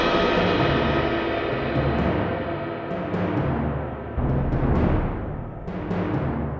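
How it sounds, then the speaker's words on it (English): Orchestral rescore of Star Wars with timpani on chord roots and fifths, cymbal swells and crashes, and bass drum, booming loud over sustained strings and brass, with several sharp hits and swells across the passage. "Now to really make it hit, I added some timpani, playing the 1 and the 5 of every chord."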